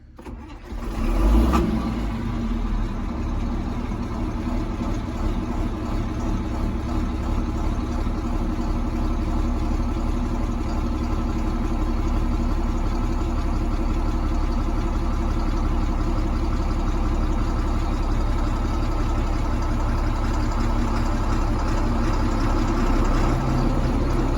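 A tractor or farm engine running steadily as a grain auger is slowly engaged, a loud continuous low rumble that starts within the first second or two and holds throughout, with no talk.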